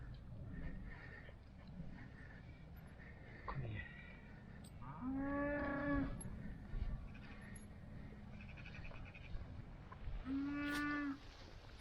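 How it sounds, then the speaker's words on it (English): Cattle in a Derbyshire field give two long, deep moos several seconds apart over a steady outdoor background, with faint voices and other distant animal sounds nearby. "we're going into another cattle field"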